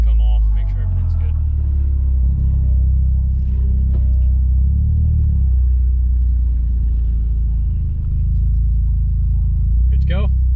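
Mitsubishi Lancer Ralliart on a warm-up lap around a race track: a steady, heavy low engine rumble drones throughout, with faint talk over it and a short squeal near the end.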